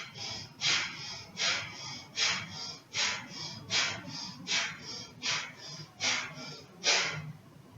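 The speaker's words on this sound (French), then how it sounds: "Respiration du feu." A yoga student practises breath of fire, pushing out about a dozen sharp, forceful nasal exhalations in a steady rhythm, each a close, rushing puff, with no talking.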